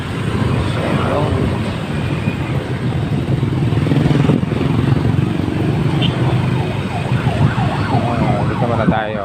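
An ambulance siren wailing through city traffic, steady and fairly loud with a rising and falling tone that grows more distinct toward the end, over engine rumble and road noise.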